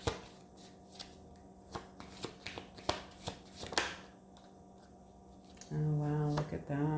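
Tarot cards being shuffled and drawn close by, a series of crisp flicks and slaps in irregular bursts, followed by a voice speaking at the end.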